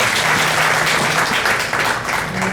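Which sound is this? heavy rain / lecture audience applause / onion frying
lecture audience applause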